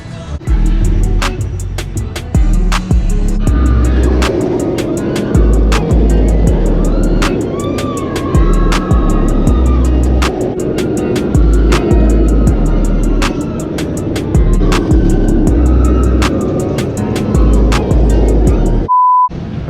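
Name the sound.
West Coast Racers roller coaster ride at Six Flags Magic Mountain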